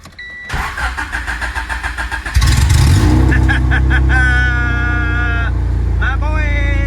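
A Honda Civic with no exhaust fitted cranks in rapid stuttering pulses, fires up loudly and settles into a raw, rough idle with a few blips of the throttle, all close by.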